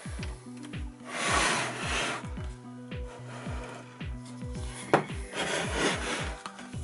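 A lock is loosened and a Festool TS 55 plunge saw is opened: a series of close, rhythmic ratcheting clicks with wooden rubbing and scraping, ending in a sharp knock, and no talk.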